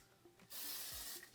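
A single hiss of Amika hair product spray, about 0.7 seconds long, sprayed onto hair. It sounds close and steady, with faint handling noises before and after.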